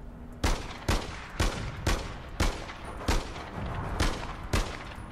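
Repeated gunshots from the video game APB Reloaded, about nine evenly spaced sharp bursts at roughly half-second intervals, fairly close and distinct, with no talking over them.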